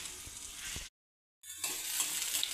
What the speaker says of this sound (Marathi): 2 मिनिट भाजी छान अशी परतवून घेतली बघा.